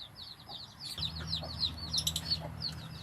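Fighting cock chicks in a duck-raising pen peep and cluck in rapid, high-pitched repeated calls, close and continuous, over a low steady mechanical hum that starts about a second in.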